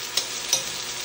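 Beans frying in a pan on a high stove for homemade kare-kare, a steady broadband sizzle with two brief scraping stirs near the start, close and alone.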